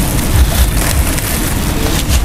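Heavy rain pours steadily in a dense, loud, hissing wash with scattered low thuds of drops striking surfaces, close and continuous.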